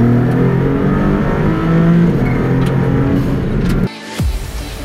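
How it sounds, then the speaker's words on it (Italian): A Maserati MC20 engine in race mode accelerates hard in second gear, a loud, close, steadily rising roar that cuts off abruptly near the end before a brief low rumble returns. "questo è il suono di una MC20 di serie in modalità corsa mid"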